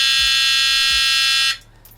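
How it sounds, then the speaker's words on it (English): A TomoFree L7 dual-motor 6000W electric scooter sounds a loud, steady electronic beep while switching its display to miles per hour, a continuous alarm-like tone that stops abruptly, with faint low thumps underneath. "And after that annoying beeping sound, bam, there you go."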